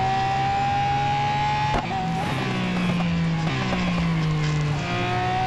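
Lamborghini Veneno race car in Real Racing 3 cornering, a loud sustained engine whine rising and dipping as it shifts through the corner, with brief tire noise and no talk.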